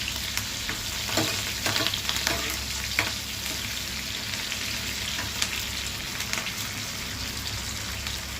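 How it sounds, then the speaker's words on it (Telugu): Onions frying until brown for a drumstick pappucharu, giving a steady, close crackling sizzle like light rain, with scattered clicks from stirring and no voices. "ఉల్లిపాయలు అవన్నీ బాగా ఉల్లిపాయలు బ్రౌన్ కలర్ వచ్చేలాగా వేసుకోవాలి"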